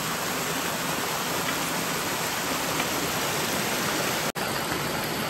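A shallow stream flows through a Konkan village in a constant, dense rushing wash, close and steady throughout with no voices.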